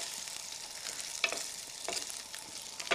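Chunks of smoked mackerel hit a hot frying pan and sizzle softly and steadily, with a few sharper crackles and pops scattered through the quiet hiss.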